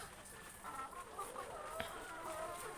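Egg-laying hens kept in a multi-level poultry house cluck softly and sporadically, faint and somewhat distant, over a steady noisy background.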